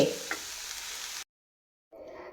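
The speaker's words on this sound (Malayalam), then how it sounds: "അപ്പം ഇത് മിക്സ് ചെയ്യട്ടെ, നല്ലവണ്ണം മിക്സ് ചെയ്യണം." Chaya mansa greens and onions being stirred in a frying pan for thoran, a steady sizzle with scraping strokes that cuts off abruptly, then resumes more faintly after a short silence.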